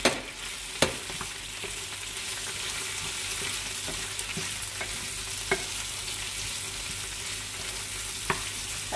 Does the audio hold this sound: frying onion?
yes